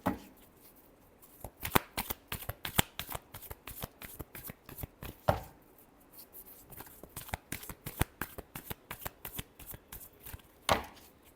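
A deck of tarot cards is shuffled again and again by hand, each pass a crisp riffling burst in a quick irregular rhythm, close and fairly quiet, with no one speaking.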